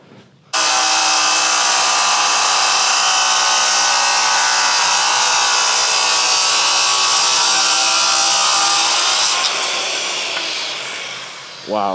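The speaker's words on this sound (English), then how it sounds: "you shouldn't probably be making cuts like this with a Diablo saw blade" Circular saw fitted with a Diablo blade cutting through a slab of hardwood for a river table, a loud sustained whining rip that runs for about nine seconds, then tapers off as the blade spins down.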